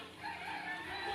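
A short, nearby chicken call, a brief drawn-out cluck-like cry rising and wavering over faint background noise.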